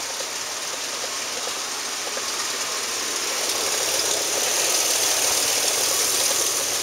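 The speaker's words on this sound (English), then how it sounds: "Motor runs good." A Mercury Mountaineer's 4.0 single overhead cam engine idles steadily at a salvage yard, a continuous close hum with a faint high whine, growing slightly louder toward the end, with no talk.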